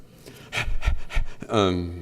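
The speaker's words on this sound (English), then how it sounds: "Boy, that dog's a heavy breather." A dog breathes heavily and pants during a city council meeting, quick rhythmic breaths close to the microphone followed by a louder, tonal voiced sound, with no words spoken over it.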